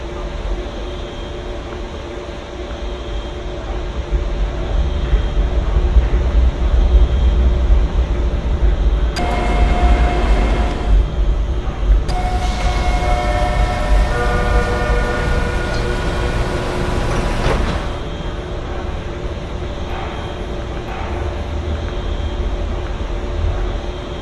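A subway train rolls into Coxwell Station on TTC Line 2 in Roblox, a steady loud rumble of wheels and motors with a bright hiss and tonal whine through the middle as it slows, then settles back to a low hum.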